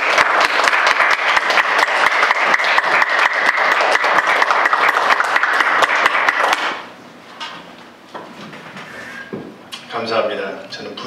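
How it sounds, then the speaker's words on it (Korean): A church congregation claps together in a lively, rhythmic burst of sharp hand claps for about seven seconds, then fades into quieter room noise with a voice speaking near the end. "전사님 우리 박수 한번."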